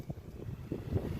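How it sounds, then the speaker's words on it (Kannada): Strong wind blows outdoors where power line work is going on in Belagavi, heard as a low, buffeting rumble against the microphone that stays fairly quiet and gusts unevenly. "ಗಾಳಿ ಬಾಳ ಬರ್ತದೆ ಅದಕ್ಕೆ ಮ್ಯಾಲ ಹೋಗ್ಲಿಲ್ಲ"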